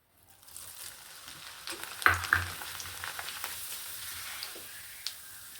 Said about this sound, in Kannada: ಇವಾಗ ನೋಡಿ ಅವಲಕ್ಕಿ ಹಾಕ್ಕೊತ ಇದ್ದೀನಿ ಇದನ್ನು ಸ್ವಲ್ಪ ಸ್ವಲ್ಪನೇ ಹಾಕ್ಕೊಂಡು ಹುರ್ಕೋಬೇಕಾಗತ್ತೆ